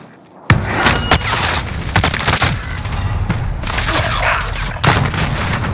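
Heavy gunfire in Call of Duty Warzone, a loud continuous barrage of close shots and booming bursts that starts abruptly and carries on with little pause, with no talking over it.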